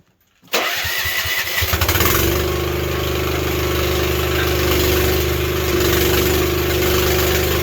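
A manlift's small engine cranks with a few rapid chugs, catches, and settles into a loud, steady mid-pitched idle that runs on evenly up close, with no talking.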